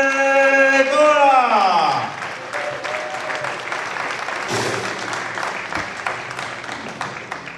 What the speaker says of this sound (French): Merci d'applaudir, Benedetto.